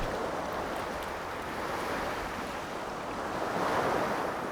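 Waves washing onto the rocky shore of a Jeju Island fishing village, a continuous broad surf roar with slow swells and some wind, with no voices.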